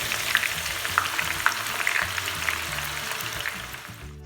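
Sliced onions fry in sunflower oil for a biryani-style rice dish, giving a steady, close sizzle with small crackles and pops as they are stirred, with no voices.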